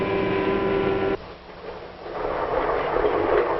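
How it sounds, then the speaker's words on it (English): A 1950s passenger train travelling through farm country; a droning tone cuts off abruptly, then a dull, muffled rolling rumble builds back up and continues to the end. "Now the train's hurrying through farm country."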